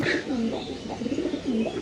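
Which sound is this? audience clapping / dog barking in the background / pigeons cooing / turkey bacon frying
pigeons cooing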